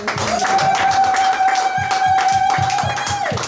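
A church congregation at a Sunday service claps in fast rhythmic beats, with a sustained tone and cheering voices above it. The sound is dense and loud for a few seconds.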